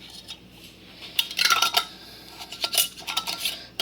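Glass canning jars clink and knock together as they are set into a Presto Precise pressure canner, a series of sharp, close clatters and taps that cluster in bursts.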